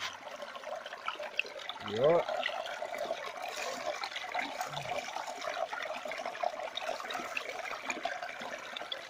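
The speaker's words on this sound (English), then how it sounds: "Fair bit of water flow through there" Water rushes steadily through a gold prospecting sluice mat at a creek near Dalmorton, NSW, a continuous broadband wash with someone speaking briefly over it.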